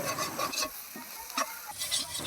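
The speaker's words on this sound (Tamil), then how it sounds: "இப்போது முட்டையை நல்லா கலந்து விட்டு வெங்காயம் தக்காளியோடு சேர்ந்து முட்டை நல்லா சுருள வெந்து வர வரைக்கும் கலந்து விட்டுக்கிட்டே இருங்க" A spatula stirs egg scrambling with onion and tomato in a hot pan, with soft sizzling under a few scraping strokes close by and no talk.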